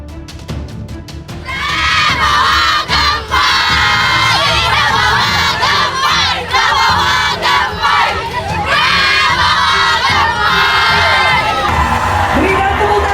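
A crowd of women at a Pandeglang rally roars with cheers, shouts and whoops to welcome Prabowo, loud and sustained after a brief quieter start, with voices calling over the din.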